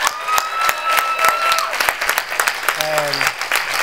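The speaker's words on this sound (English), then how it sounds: "Give yourself a round of applause." A live studio show audience claps, sharp distinct hand claps in a lively uneven rhythm, loud and close, with faint voices and a whistle-like tone near the end.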